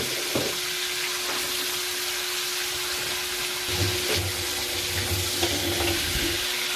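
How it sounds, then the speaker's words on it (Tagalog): Bacon frying in a pan crackles and sizzles steadily up close, broken by occasional scraping stir sounds and a faint constant hum underneath. "magluluto tayo ng bacon"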